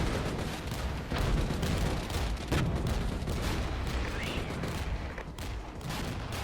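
Rockets fire during a Regiments battle: a dense, continuous barrage of booming launches and blasts rolls on throughout, loud and chaotic, with faint voices underneath.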